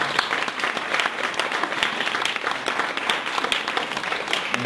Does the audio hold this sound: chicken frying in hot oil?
no